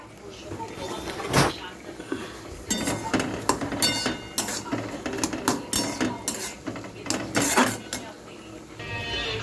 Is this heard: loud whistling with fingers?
no